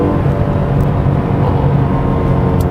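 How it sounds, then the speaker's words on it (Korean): A 2021 Kia K7 (Cadenza) with a 3.0 GDI engine, driven in sport mode, roars at full throttle. The sound is a loud, steady engine drone with dense road and wind noise throughout and no speech. "풀 악셀 했을 때"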